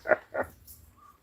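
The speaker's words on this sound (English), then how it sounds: "What are they barking at?" Two short barks from a dog, a North American Husky among the pack, sounding somewhat distant and muffled, followed by faint background noise.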